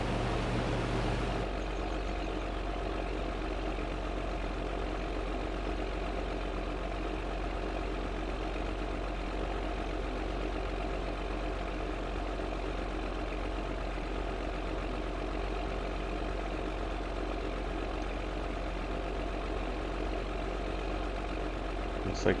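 A steady low engine drone from a tractor idling in Farming Simulator 2013, constant and unchanging for the whole stretch, with a brief shift in tone at the start.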